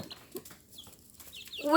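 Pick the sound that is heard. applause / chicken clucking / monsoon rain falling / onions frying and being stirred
chicken clucking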